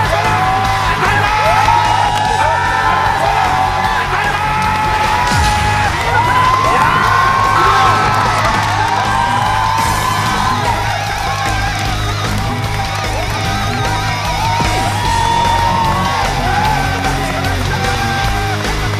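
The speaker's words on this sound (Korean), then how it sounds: "허준 씨가 환호하는 동안에" Loud crowd cheering, yelling and whooping at a celebrity amateur baseball game, a dense roar that holds steady for the whole stretch with shouting voices rising through it.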